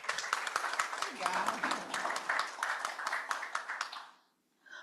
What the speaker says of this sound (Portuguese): uma salva de palmas para a Edmê